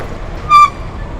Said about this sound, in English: Wow, these brakes are a bit loud.